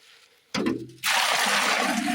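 Water poured from a container onto dry alfalfa pellets, a short splash followed by a steady, close hissing pour.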